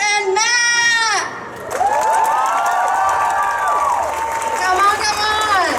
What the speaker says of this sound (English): So I need a round of applause for Miss Afshan and Matt.